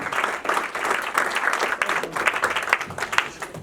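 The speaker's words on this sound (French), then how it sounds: "We can applaud for our pastor." An audience applauds a pastor at a book launch, with dense, sustained clapping from a crowd that carries through the whole stretch.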